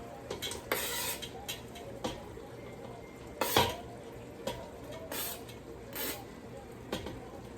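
Sausage is added to a frying pan and stirred, with sharp clinks and scrapes of a utensil against the pan over a faint sizzle, irregular and close.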